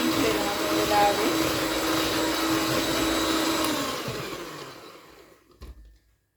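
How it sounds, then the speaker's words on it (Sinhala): Electric mixer beating butter and sugar for cake batter, a loud steady whirring drone that holds for several seconds and then winds down and stops, with a couple of faint knocks near the end. "බලන්න අපේ කේක් මිශ්‍රණය දැන් ගොඩක් හොඳට බීට් වෙලා තියෙන්නේ. ඉතර බටර් එක සීනි ඉතා හොඳින් බීට් වෙනවා මේ වෙලාවේ."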